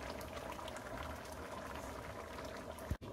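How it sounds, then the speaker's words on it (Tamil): A pot of moong dal (green gram dal) curry simmers at a low, steady bubbling boil, a faint continuous gurgle close by, with a small knock near the end and no voices. "நல்லா கொதிச்சிருச்சு பருப்பு"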